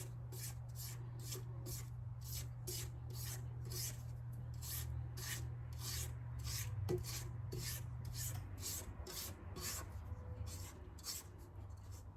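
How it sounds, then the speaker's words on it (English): A spatula scrapes down the sides of a mixing bowl holding banana pound cake batter, giving repeated short rasping strokes in a regular rhythm, soft and close, over a low background hum. "Scrape down the sides of the bowl."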